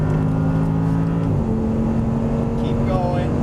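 An Audi R8 V10 accelerates on a race track, the engine drone steady and loud inside the car, the pitch dropping at a shift before climbing again, with a person talking over it.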